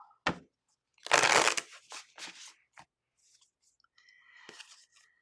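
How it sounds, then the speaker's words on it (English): A tarot deck is shuffled in a quiet room, with short riffling and crisp card-slapping bursts, one longer flurry, then softer scattered card handling. "I am shuffling."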